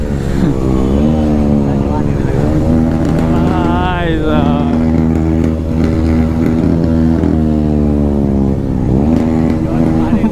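A Bajaj NS400 motorcycle fitted with an SC Project exhaust runs loud and close, with a deep throbbing drone that swells and climbs in pitch as it revs, holding steady throughout.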